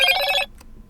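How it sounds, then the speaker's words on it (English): A Motorola Edge 60 Neo smartphone rings with a bright, dense electronic tone that runs loud for about half a second and then cuts off abruptly, followed by near silence with only a faint tick. "wait for the phone to ring and then lift it up"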